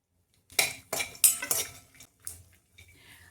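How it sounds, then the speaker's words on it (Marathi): Dry fruits roasting in a kadhai with just a little oil, stirred with a metal spoon that scrapes and clinks against the pan in several quick strokes, close and fairly loud, then quieter stirring. "आता त्याच कढईत मी ड्रायफ्रुट्स भाजून घेते बघा."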